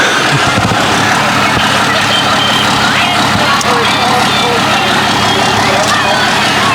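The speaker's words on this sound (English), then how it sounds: "Notice we have a lot of diesel trucks here tonight." Diesel trucks rumble past in a nighttime Christmas parade in Marine City, a loud continuous engine drone with crowd noise, while people talk throughout.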